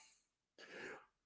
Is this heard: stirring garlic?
no